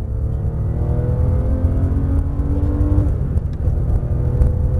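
A Porsche 997 GT3 RS engine pulls hard on a race track, heard from inside the car as a loud, steady, dense roar that holds the whole time without a break.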